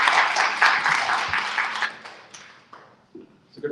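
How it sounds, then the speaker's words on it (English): Applause from a meditation summit audience in Cleveland, Ohio, dense and steady at first, then thinning into a few scattered claps as it fades away. "Round of applause for her again."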